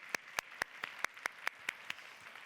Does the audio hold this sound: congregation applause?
yes